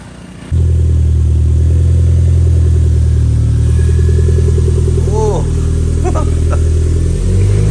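A Toyota MR2 turbo engine catches after a brief quiet start, then settles into a close, steady idle with a slight throttle blip near the end. Voices are heard faintly.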